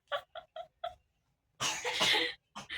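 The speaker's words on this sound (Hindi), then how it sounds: "बेचारी बच्ची को खांसी आ रही थी" A young girl coughs four short times in quick succession, then after a pause lets out a longer harsh cough and two more brief ones, close and fairly quiet indoors.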